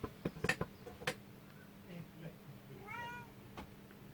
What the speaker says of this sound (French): Bonjour le chat. Comment vas-tu le chat?